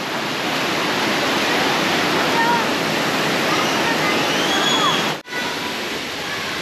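The Air Terjun Jelawang waterfall near Stone Hill Resort in Dabong pours in a loud, steady roar of rushing water close by, with faint voices in the background.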